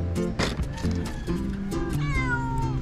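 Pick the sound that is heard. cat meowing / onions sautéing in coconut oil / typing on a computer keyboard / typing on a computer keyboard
cat meowing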